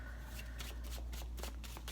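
A deck of tarot cards is shuffled close by, a dense run of crisp riffling and flicking with quick bursts, over a low steady hum and no talk.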